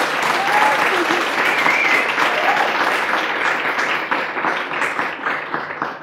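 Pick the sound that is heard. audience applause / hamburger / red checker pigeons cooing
audience applause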